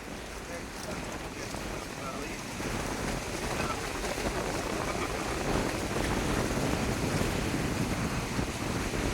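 Strong wind roars steadily into the microphone, a dense continuous rushing that grows slightly louder after the first few seconds.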